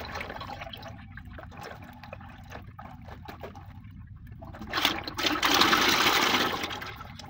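Hydraulic oil drains from a Shacman truck with a steady liquid trickle and splash, swelling into a louder, fuller pour near the end.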